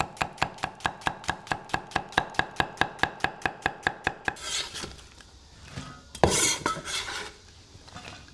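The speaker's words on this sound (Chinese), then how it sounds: "准备洋葱1个切成细丝备用" A knife slicing an onion into thin strips on a board, about twenty quick, even chops in a steady rhythm, close and crisp. Then handling noises and a sharp clatter follow, with no talk.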